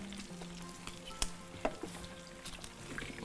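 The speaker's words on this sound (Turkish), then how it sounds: "çok güzel kızarıyor onlar" Food sizzles and fries steadily in a pan in a home kitchen, a close, continuous crackle with occasional sharper pops and faint stirring clinks, no talking.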